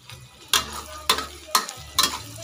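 Shallots fry in hot oil in a pan for Thai son-in-law eggs, with four regular scraping stirs cutting through a soft, steady sizzle, close and clear with no talking.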